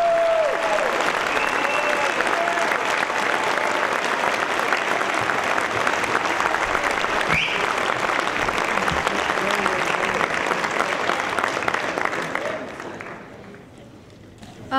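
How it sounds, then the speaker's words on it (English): Sustained applause from the audience at a Cherokee High School National Honor Society induction ceremony, a dense steady roar of clapping that carries on for about twelve seconds before fading out. "Please join me once again in a round of applause for all our new inductees."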